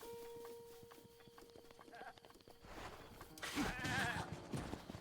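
A goat bleats in The Legend of Zelda: Breath of the Wild, a wavering in-game cry rising over game music and footstep sounds near the end, heard alone without talk.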